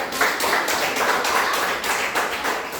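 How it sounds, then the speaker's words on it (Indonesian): A short burst of applause: students in a physics class clap steadily for a few seconds, fairly loud and close, with no voices. "Kita beri tepuk tangan untuk"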